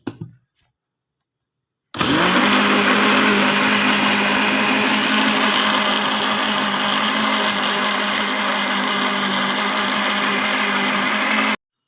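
After a brief silence, an electric mixer starts up and runs in a loud, continuous close-up whir for about ten seconds, whipping génoise sponge-cake batter with a steady motor tone, then stops.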